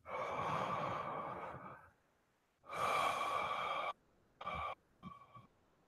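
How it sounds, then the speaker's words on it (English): Deep, slow breaths, close and intimate: two long exhales, each around a second, separated by quiet, then a couple of shorter breathy puffs, with no talking. "Everyone take a deep breath."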